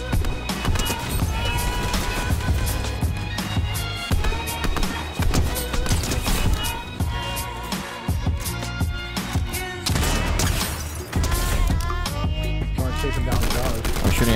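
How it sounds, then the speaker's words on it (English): Dense rapid gunfire in a battle royale video game, aimed at shooting a tree down, rattles in fast bursts with no break, laid over busy game sound and music. "I'm shooting out the tree"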